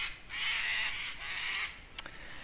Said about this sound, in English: As the cockatoos are saying it's time to stop.